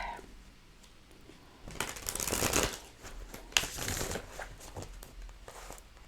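Cards are shuffled close by in two quick riffling bursts, crisp papery flutters with a brief pause between.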